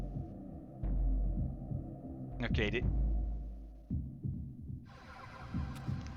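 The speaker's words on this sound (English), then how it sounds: "it's giving off a heartbeat. It's a gem heart of some sort." Heartbeat pulsing from a gem heart in Soul Reaver 2, a low, throbbing thud under a steady game hum, with a brief bright chime midway and a short spoken word.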